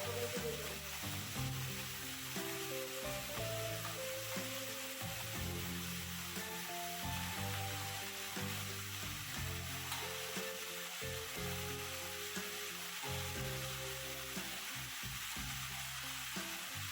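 Finely chopped garlic and slit chillies fry quietly in a pan, a soft continuous sizzle with faint stirring, low and steady throughout and no talking.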